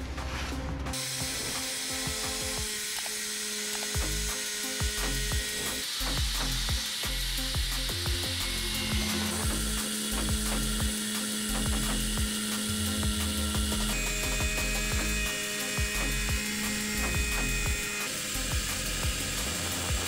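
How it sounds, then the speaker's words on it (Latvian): An angle grinder cuts into rusted car body metal during rear axle repair on a BMW E36, with a continuous harsh grinding and whining drone, rough scraping bursts and shifting pitch, fairly loud with no talk. "tūlīt slēdzu klāt fleks un mēģinam griezt ārā"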